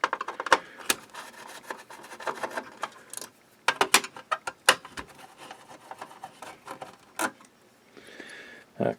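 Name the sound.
removing hidden screws from IBM Power 6 server power supply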